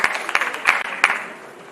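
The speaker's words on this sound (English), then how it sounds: "loud clap for her." Short burst of audience applause at a radiotherapy conference, scattered claps rising to a few sharp peaks before thinning out over under two seconds.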